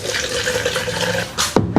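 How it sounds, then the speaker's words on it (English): Water gushes from the tap of a newly set up worm farm, a loud, close, steady splashing flow ending with a couple of sharper splashes. "If I open this, we should get water."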